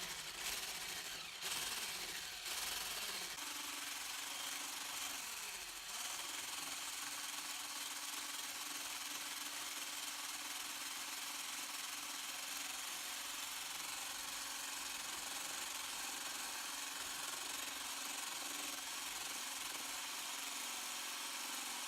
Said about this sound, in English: So I'm going to come in here with the whisk.